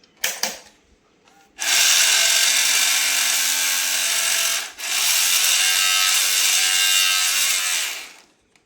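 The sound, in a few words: old VCR mechanism trying to eject with no cassette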